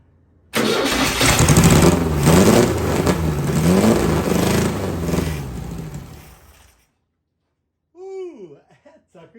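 A VW single port engine mounted without motor mounts cranks and catches, then runs loud and rough with an uneven, lumpy rhythm for several seconds before shutting off, followed by a voice.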